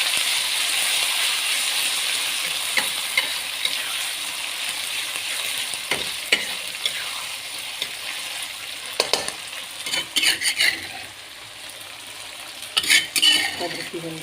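Ground chili and eggplant frying in a pan for Betawi-style terong dicabein, a steady sizzle with occasional scraping and clinking of a spatula stirring, continuous and close with no voices.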